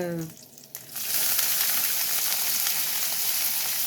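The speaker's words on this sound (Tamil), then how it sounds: "இப்போ இது வந்து நல்லா வதங்கட்டும் வதங்கணும் வெங்காயம் வதங்கும் போதே" A brief rustle and clatter, then a loud, steady sizzle as small onions fry in a hot pan, filling the rest of the clip.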